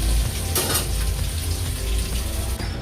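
Fish heads frying in hot oil for a fish curry, a steady close sizzle and crackle running throughout with a brief brighter burst of spattering early on.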